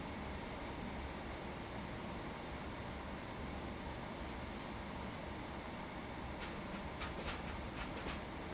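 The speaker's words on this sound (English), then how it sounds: "the sound of that train coming the other way, yeah, that wasn't great, was it?" In the Train Simulator Classic game, an oncoming train on the Huddersfield Line passes with a constant loud rushing rumble and a series of sharp clicking wheel beats near the end.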